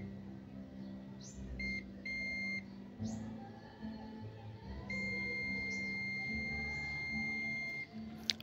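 Continuity buzzer of a multimeter beeping during a probe test on a Sony 40-inch TV board: repeated steady high tones, several held for a second or more with short gaps between them, over a continuous low hum.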